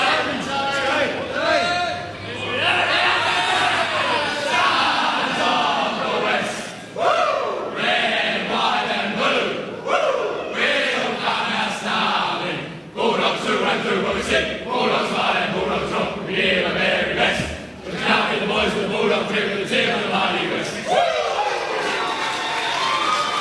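A crowd of Western Bulldogs players sings the team song together in the rooms after a win over Richmond, loud and rowdy with shouts and cheers breaking in across the verse.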